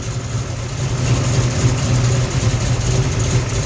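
A factory big-block 454 V8 in a 1971 Chevrolet Cheyenne runs with the body on the chassis, loud and steady with a deep rumbling idle, close by, with no voices.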